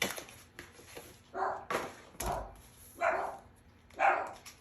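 A miniature dachshund barks several times in a row, sharp and fairly close, with short pauses between the yips in a home kitchen.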